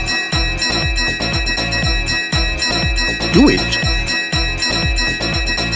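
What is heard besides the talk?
bell ringing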